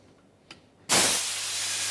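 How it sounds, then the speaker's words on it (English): Compressed air blasts out in a sudden loud hiss as a valve opens on a cast iron 3HP piston compressor, holding as a steady rushing hiss after a small click just before. "So we'll just let a bit of compressed air out and open this valve up here."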